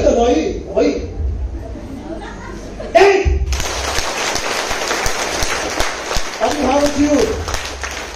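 A hall audience of parents claps hard and steadily for several seconds, a dense, close wash of applause that starts abruptly after a short spoken stretch, with a voice occasionally talking over it.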